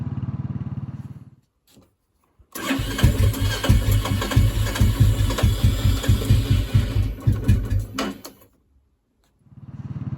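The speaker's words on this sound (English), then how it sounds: "what the bike's been doing is it's gradually been getting worse at idling" A Royal Enfield Classic 350 motorcycle engine idles roughly for several seconds, its uneven chugging pulses rising and falling as it struggles to hold idle, with brief near-silent gaps before and after.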